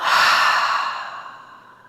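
A single full, audible exhale in a prenatal yoga breathing exercise, loud at the start and tapering off gradually over about two seconds, breathy and unvoiced.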